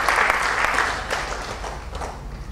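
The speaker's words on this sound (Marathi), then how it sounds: "टाळ्या वाजवून त्यांचं अभिनंदन करूया" Applause from an audience at the 2005 URL Foundation awards ceremony, a steady wash of clapping that starts full and loud, then gradually thins and softens toward the end, with no voices over it.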